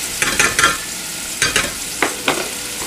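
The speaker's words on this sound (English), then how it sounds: "I'm going to go ahead and grab a spoon and make sure that's good and mixed" A spoon stirs a salted rice mixture, making a series of close, crisp scraping and rattling strokes in short bursts, with brief pauses between them.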